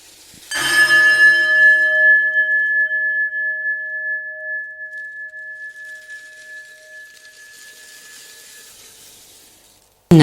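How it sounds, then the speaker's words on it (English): A single meditation bell is struck once and rings out alone with a clear, sustained tone that slowly decays over several seconds in a quiet room. "Traditionally, used for practice 1 bell to start and 3 bells to finish."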